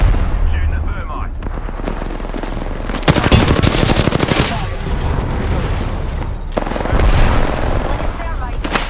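Gunfire and a thermite grenade in the video game Apex Legends, rapid bursts of automatic shots and a fiery whooshing blast, loud and dense, with game voice lines over it.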